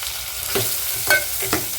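Yellow and red capsicum sizzle in a pan over reduced heat, a steady hiss broken by three short scraping stirs, close and moderately loud with no one talking.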